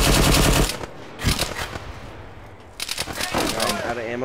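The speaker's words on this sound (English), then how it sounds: "And I'm getting shot at instantly." Automatic gunfire in the battle royale game Apex Legends, loud, dense bursts of rapid shots in several clusters with brief gaps, with a voice speaking at moments between.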